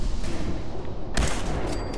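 A single sharp gunshot in Fallout 4 cracks out about midway, loud against a steady low rumble of game ambience, followed by a faint thin tone.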